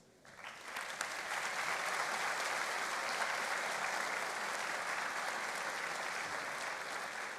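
A convocation audience bursts into applause after staff, alumni and union representatives stand, the clapping swelling quickly and holding as a dense, even roar across the hall.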